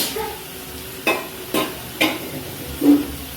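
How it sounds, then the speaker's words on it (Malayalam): Meat masala and spice powders being sautéed in a pan for a mussel roast: a low steady sizzle broken by three or four distinct scraping stirs, close and moderately loud, with no talk. "ഇനി ഈ പൊടിയുടെയൊക്കെ പച്ചമണം മാറുന്ന സമയം വരെ ഒന്ന് വഴറ്റിയെടുക്കാം"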